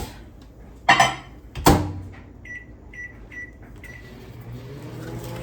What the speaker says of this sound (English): I'm going to put this in my microwave and let it melt.